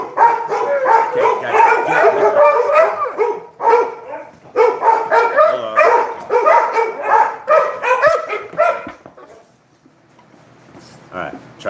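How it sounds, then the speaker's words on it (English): Several dogs bark loudly indoors in rapid, overlapping bursts for most of the stretch. After a short pause they bark again, then fade to quiet, and someone briefly speaks among the barks. "trying to settle the dogs down"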